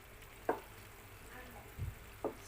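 Pork and chicken adobo sautéing in a pan, a soft steady sizzle with a few scrapes and knocks of stirring, close by in a home kitchen.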